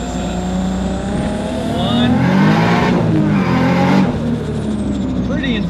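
A turbocharged car accelerates hard through a gear shift, engine rising in pitch, dropping briefly at the change and pulling up again under boost, heard from inside the cabin with a voice talking over it.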